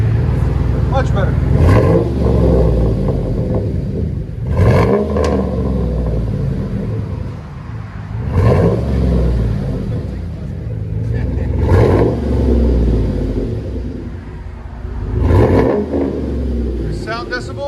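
A 2009 Chevy Silverado 5.3L V8 with dual exhaust and catalytic converters revs repeatedly in bursts, each rise and fall rumbling loudly, with idling between revs.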